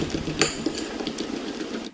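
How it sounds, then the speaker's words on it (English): A utensil stirring chocolate popover batter in a bowl, quick close scraping and clinking strokes with one sharper clack early on, fading out at the end without speech. "Let's stir this around."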